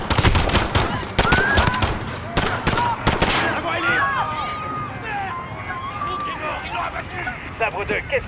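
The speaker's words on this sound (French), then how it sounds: "Des coups de feu, plusieurs agents touchés." Gunfire from Call of Duty: Modern Warfare (2019) during a police shootout at Piccadilly Circus, with several close, loud bursts early on, then scattered shots under shouting radio voices and commotion.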